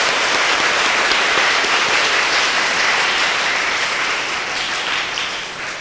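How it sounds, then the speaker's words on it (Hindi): A congregation at a Bible convention applauds in thanks, a thick wash of many hands clapping together, loud and sustained before gradually easing off toward the end. "ताली बजाते प्रभु को धन्यवाद करेंगे।"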